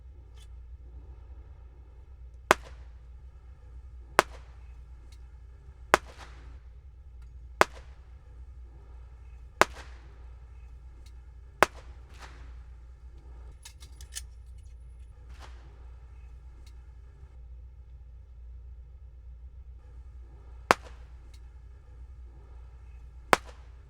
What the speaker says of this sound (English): it's going to be draw and fire 6, speed reload, kneel, and fire 6